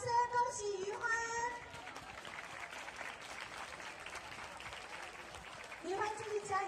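Audience applause for a young drum contest winner at a national drumming competition, steady clapping from a crowd that swells and fades, with an announcer's voice talking over the start and end.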